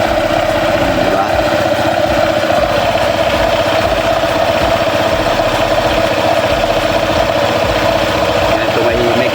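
Honda PCX 160 scooter engine idling nearby, a steady mid-pitched throb with an even mechanical buzz that holds unchanged throughout.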